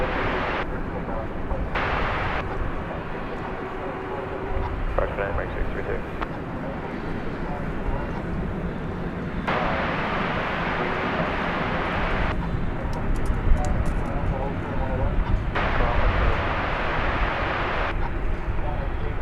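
A Qantas airliner taxiing at night at Dallas/Fort Worth Airport sends out a sustained, loud engine roar with broadband rumble that surges and eases in broad swells.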